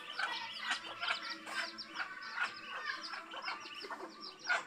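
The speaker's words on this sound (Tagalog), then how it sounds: "Ayan, meron pang manok dito." Chickens cluck steadily in the background, a flock heard from a moderate distance with soft, repeated calls and no voices.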